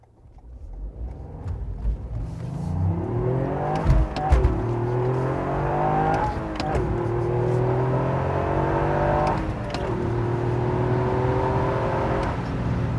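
A 2021 Toyota GR Yaris hot hatch's engine revs hard on a track and climbs through the gears in repeated rising sweeps, loud and close throughout with brief shift breaks.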